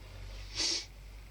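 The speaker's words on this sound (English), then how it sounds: "apologise for sniffing or coughing that you might hear" A person with a cold gives a single short, breathy sniff, close and fairly quiet, lasting about a quarter second over a low background hum.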